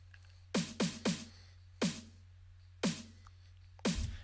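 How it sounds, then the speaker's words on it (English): Single clap samples with a lush reverb tail from the Waves CLA Epic plugin land in an uneven pattern, about seven sharp hits, each decaying into a smooth wash over a low steady hum. "So here's the sound of the clap."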